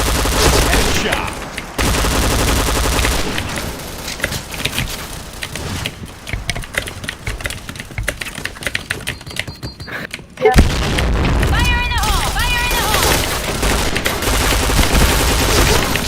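Rapid gunfire bursts and booming shots from the shooter game Point Blank, loud and dense throughout, with brief dips and a sharp burst near the middle, while a voice talks over the action.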